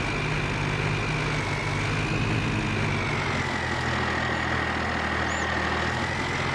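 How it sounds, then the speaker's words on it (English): A 1970s farm truck in Farming Simulator reverses into a canopy, its engine a steady, loud, low idling drone with a faint high whine that drifts slightly in pitch. "let's go ahead and back this truck up into this canopy here"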